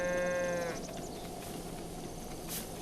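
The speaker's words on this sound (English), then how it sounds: "Some more cows." A cow in the Breath of the Wild video game lets out a single close, tonal moo that fades after a moment, leaving low outdoor ambience with no talking.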